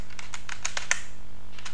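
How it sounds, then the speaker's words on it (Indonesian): Someone types on a computer keyboard, producing a quick, close burst of light key clicks over a steady electrical hum, with no speech. "Kita ketikkan"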